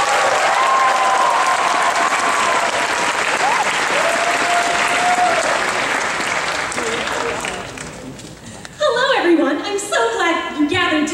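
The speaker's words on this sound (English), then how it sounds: "give him a round of applause" A convention audience at a live improv comedy show gives a full, loud round of applause that sustains for about eight seconds and then fades. A performer's voice starts speaking over the last few seconds.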